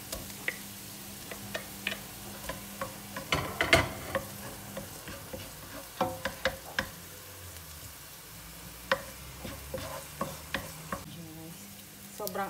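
Onions stir-fried in a pan for Filipino bopis give a faint, steady sizzle broken by scattered sharp clicks and scrapes from the stirring utensil, with no voices.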